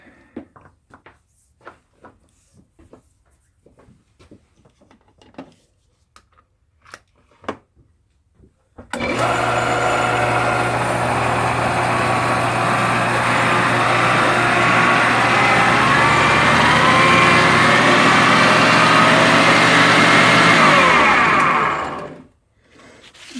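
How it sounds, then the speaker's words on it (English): The motor of a Shopsmith Mark V woodworking machine starts after several light clicks, runs loud and steady with a whining hum as its speed is cycled up and down, then cuts off abruptly near the end. "once you've oiled, you want to run the machine through the speeds a few times, up and down"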